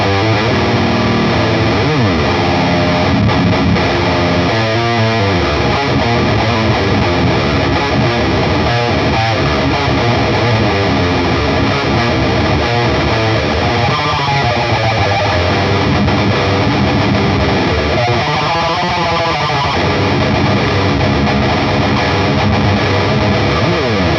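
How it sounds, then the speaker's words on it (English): Electric guitar played through an amp with an external boost pedal, giving a loud, thick, heavily distorted tone in continuous riffing chords and single notes with no pauses or talking for about twenty-four seconds. "Let's put the boost mode at neutral and hear what it sounds like with an external boost."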